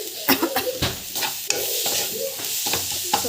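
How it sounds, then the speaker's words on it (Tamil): Chili and turmeric powder sautéed in a pan while cooking a cauliflower fry, heard as a steady sizzle broken by repeated sharp scraping strokes of a spoon stirring, close and alone. "நல்லா வந்து அந்த பச்சை வாசம் போகிற வரைக்கும் நல்லா வதங்கட்டும்."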